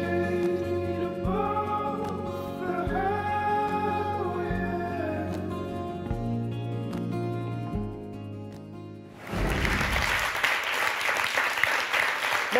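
Music plays first, then a studio audience on a French talk show breaks into loud, sustained applause that carries on to the end.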